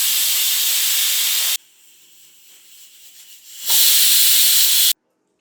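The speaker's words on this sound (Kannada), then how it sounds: "ಲಿಡ್ನ ಕ್ಲೋಸ್ ಮಾಡಿಬಿಟ್ಟು 2 ವಿಷಲ್ ಆದರೆ ಆಯಿತು." A pressure cooker whistles loudly while cooking mente bath, a steady, close, harsh hiss of escaping steam that breaks off, drops to a quiet rumble, then bursts out again before stopping abruptly.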